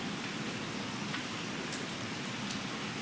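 Steady rain hisses evenly across the whole stretch, with a few brief louder drop spatters, close and unbroken by any voices.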